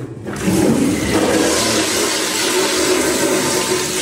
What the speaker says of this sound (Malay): Flash sekali, air laju.